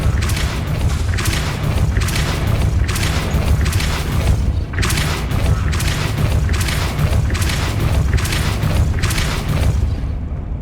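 A Depulso spell blast in the Hogwarts Legacy video game: a steady run of loud, booming thumps repeating roughly every second, with dense crackling bursts on top, close and continuous with no talk.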